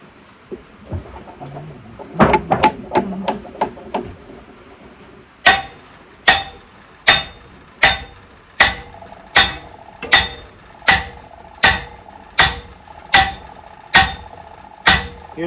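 A sledgehammer strikes a nut to tighten it, opening with a quick flurry of light taps, then a steady series of about a dozen sharp metallic bink blows evenly spaced and close, their ringing pitch shifting as the nut seats.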